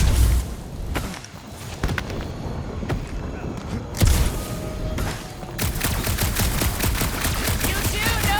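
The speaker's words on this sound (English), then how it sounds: "You do know that aimless shooting isn't gonna scare the monsters away, right?" Rapid gunfire fills the scene in Marvel's Guardians of the Galaxy, with repeated sharp bursts and a heavy boom partway through. It continues in a steady clatter over game ambience with no one talking.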